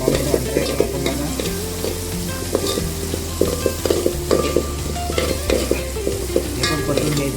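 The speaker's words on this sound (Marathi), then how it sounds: "हे पण परतून घ्यायचं आहे." Chilli, garlic, onion and tomato are sautéed in a pan, with a constant close sizzle and frequent stirring scrapes and taps against the pan, and no one speaking.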